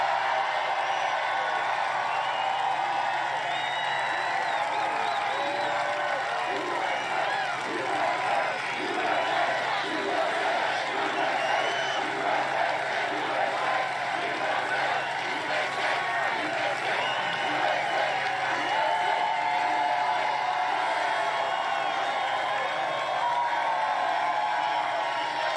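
A large crowd at an outdoor political rally in North Carolina, cheering and applauding in a continuous far roar of voices and claps that holds steady throughout.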